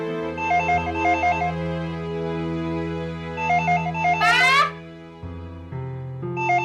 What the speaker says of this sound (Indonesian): Nggak denger apa ada suara telepon?